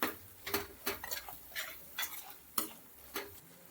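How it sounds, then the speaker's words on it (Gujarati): A spoon stirs spices and vegetables in a pan with a rhythmic series of sharp scrapes and taps, about one every half second, over a faint background sizzle, close and quiet, no speech. "બરાબર મિક્સ કરી લઈશું."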